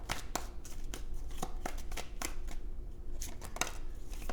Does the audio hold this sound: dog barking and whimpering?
no